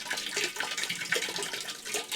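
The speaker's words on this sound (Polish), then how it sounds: "To myślę, że teraz jakieś 5 minut i cała woda z boilera zejdzie do tej beczki." Water drains from a cracked boiler-type water heater into a barrel, a steady splashing, gurgling stream close by with uneven surges, no talking over it.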